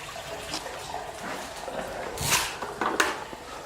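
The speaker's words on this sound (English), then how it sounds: "here's the creek that's running that we heard upstairs" Creek water runs through the basement of an abandoned old slaughterhouse, a steady, close rushing wash with a couple of louder splashing surges near the end.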